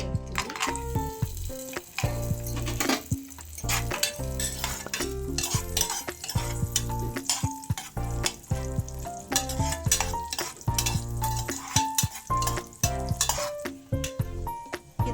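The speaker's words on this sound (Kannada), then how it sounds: "ಗೋಡಂಬಿ, ದ್ರಾಕ್ಷಿ ಹಾಕ್ತೀನಿ" Cashews and raisins frying in ghee, a dense continuous sizzle broken by constant spoon stirring and clinks of metal against the pan, loud and close for the whole stretch with no talk.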